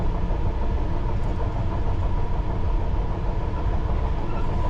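A London Underground Piccadilly line train runs steadily, with a constant low rumble and rail roar at moderate level and no voices.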